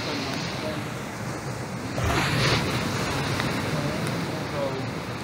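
Sea waves wash onto a shore on a bicycle tour of northern Luzon, a steady surf hiss with wind noise and one louder wave surging up around the middle.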